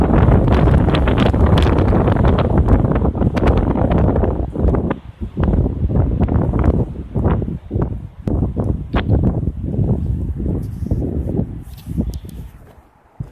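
Strong wind blows across a hill and buffets the microphone in heavy, roaring gusts that ease and surge in uneven bursts, loud and close with no talking.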